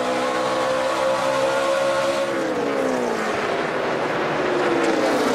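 Race cars roar around the track during the Pioneer Hi-Bred 250, engines screaming loudly as pitch sweeps down and back up while the pack passes close by, with no commentary over the noise.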